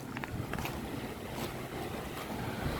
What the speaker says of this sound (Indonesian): Suara angin, suara ombak, ya namanya juga pantai.